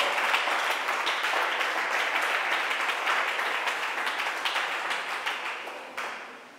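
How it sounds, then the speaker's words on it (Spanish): Sustained applause from a church congregation praising God, a dense wash of many hands clapping that slowly fades toward the end, with no talking over it. "Dele más palmas de alabanza al Señor"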